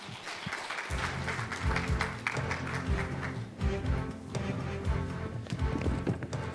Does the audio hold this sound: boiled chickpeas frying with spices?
no